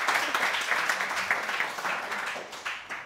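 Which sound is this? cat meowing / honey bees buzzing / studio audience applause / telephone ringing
studio audience applause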